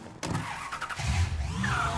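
A car engine in the video game Mafia III starts up and idles with a low, steady rumble, loud and close, lasting a couple of seconds with no talking over it.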